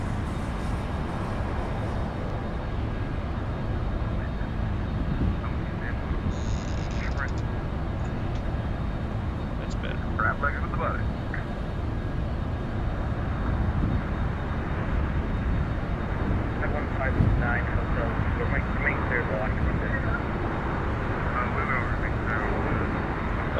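A Boeing 737 (Zibo mod) takes off in the X-Plane 12 flight simulator, its jet engines making a steady, broad roar for the whole stretch. Faint voices and small cockpit sounds come and go over it.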